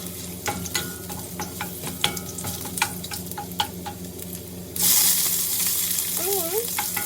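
Ginger for chicken tinola sautéing in a pan, a soft close sizzle with repeated light spatula clicks, then a sudden louder hiss that keeps going, with a brief faint whistle-like tone near the end.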